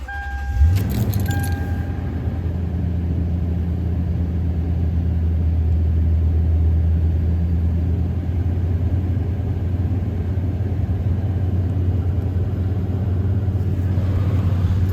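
A Toyota Tundra pickup engine idles just after a cold start, a steady low rumble running throughout with a brief metallic keys-like jingle near the start.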